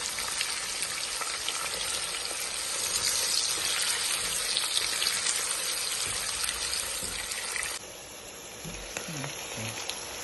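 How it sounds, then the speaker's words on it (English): Onion dropped into hot coconut oil already infused with salted fish for a Ghanaian spinach stew, giving a loud, steady, close sizzle and crackle with no talking, easing slightly toward the end. "Now I'm adding my onion."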